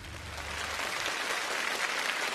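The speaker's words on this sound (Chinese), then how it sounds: "我想现在的掌声是送给我们两位对战的选手" Audience applause on a televised quiz contest for two competitors, a dense, steady wash of clapping from a large crowd that swells slightly and holds without letup.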